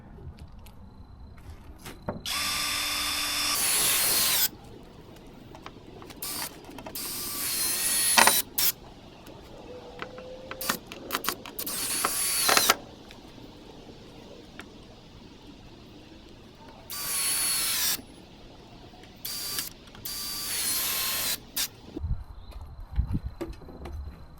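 A drill drives brown composite screws into horizontal privacy fence boards, several loud whirring bursts of a few seconds each separated by quieter gaps, close by.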